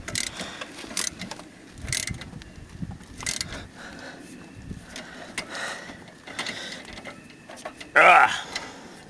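Hand tools ratchet and clicking as bolts are snugged and tightened during a rear brake job on a 2007 Kia Rondo, a series of close, intermittent mechanical clicks and clanks in a garage, with a sharper burst near the end.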